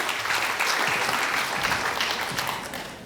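Audience at a suicide-prevention seminar held at the National Assembly applauds steadily, with dense, even clapping from a full room that tapers off slightly at the end.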